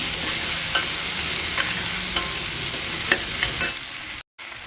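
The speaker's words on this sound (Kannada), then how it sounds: "ಫ್ರೈ ಆದ ನಂತರ ಇದಕ್ಕೆ ಹಚ್ಚಿಟ್ಕೊಂಡಿರೋಂಥ ಬೆಂಡೆಕಾಯನ್ನು ಸೇರಿಸ್ಕೊಳ್ತಾ ಇದ್ದೀನಿ. ಚೆನ್ನಾಗಿ ಎಲ್ಲವೂ ಫ್ರೈ ಮಾಡ್ಕೊಳ್ಳಿ." Okra stir-fried in a pan for palya gives a loud, close, continuous sizzle with regular stirring scrapes, ending in a brief cut of silence near the end.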